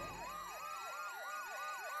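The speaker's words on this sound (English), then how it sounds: "I live here and I can't remember my code to turn off the dang alarm" Home security alarm in South Park: The Fractured But Whole, a loud electronic siren sweeping up and down in a rapid, steady repeating wail that runs throughout with nothing else heard.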